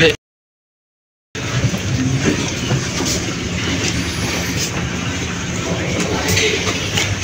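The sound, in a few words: KA Serayu economy train carriage while boarding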